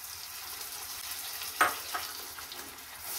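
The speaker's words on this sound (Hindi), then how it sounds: "जब हमने टमाटर और लहसुन का प्यूरी बनाया था वो अब डालेंगे इसके अंदर" Tomato and garlic puree goes into hot oil for Punjabi-style chole, with a soft, steady sizzle, one brief louder hiss and a few small spatters, quiet and without voices.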